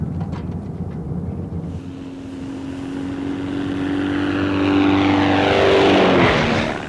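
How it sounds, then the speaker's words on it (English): A propeller-driven torpedo aircraft drones steadily, swelling louder as it draws near and passes overhead, its engine pitch sweeping downward at the peak. "Sailors quickly realized that an aircraft fitted with a torpedo could attack the enemy at an even greater"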